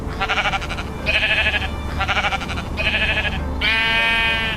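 Sheep bleat in a run of about five drawn-out, wavering calls, close and fairly loud, one after another with short gaps between them.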